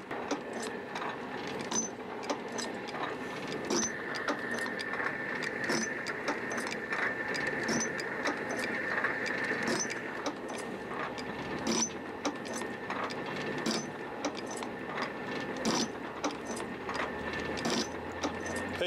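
A metal shaper driven by an electric motor runs steadily alone, with a constant mechanical hum and regular ticking strokes repeating about every second, fairly quiet and close.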